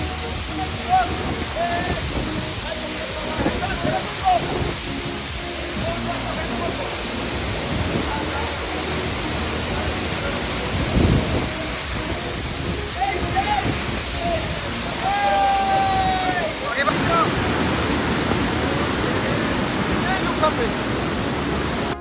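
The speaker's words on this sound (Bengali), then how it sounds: "আমরা ঝর্ণায় চলে আসছি এখন" A small waterfall carrying muddy water after heavy rain pours in a steady broad rush, close and continuous, with voices talking over it at times.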